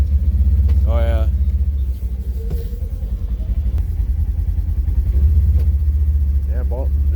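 A Polaris General UTV fitted with a Gilomen clutch kit and tuned ECU revs and pulls away with a loud, close engine rumble that rises and holds steady, with voices talking over it.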